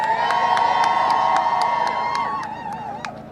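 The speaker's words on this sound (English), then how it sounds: "Give yourselves a round of applause." A large crowd cheers, whoops and shouts outdoors at a Tigrayan protest in New York, loud and sustained, with high voices and sharp claps spiking through before the noise slowly tapers off.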